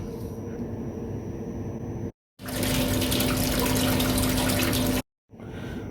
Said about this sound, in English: So now this tank is fully defrosted and we are going to empty the tank.